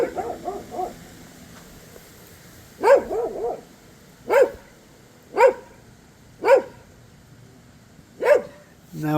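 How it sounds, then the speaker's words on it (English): A dog barks in a quick burst of yips, then lets out single loud barks at steady intervals, close by with no other sound competing. "Now we know why the dog's barking."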